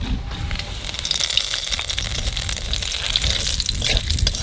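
Cumin seeds and bay leaves hit hot oil, giving a loud, bubbling sizzle with splashy, watery crackle that rises and persists across the stretch.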